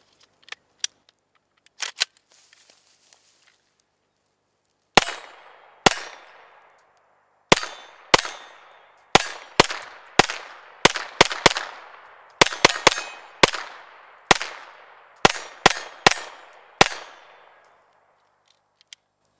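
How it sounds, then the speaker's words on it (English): A CZ Scorpion 9mm firing: a loud string of sharp single shots in an irregular rhythm, each with a short ringing decay, with no talking. "All right, I'm shooting the CZ Scorpion."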